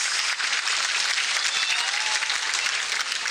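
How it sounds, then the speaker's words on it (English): Dense, steady applause from an audience at a State House ceremony, many hands clapping together at constant loudness with no pauses throughout. "Ladies and gentlemen, a louder hand clap for Mama's remarks"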